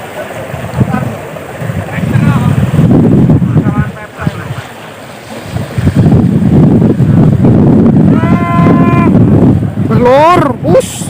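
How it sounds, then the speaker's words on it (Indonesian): Strong wind buffets a phone microphone outdoors while a kite is being readied to fly, a loud continuous roar with gusty surges, and voices call out briefly near the end. "kayak anginnya terlalu ngeri, tenan"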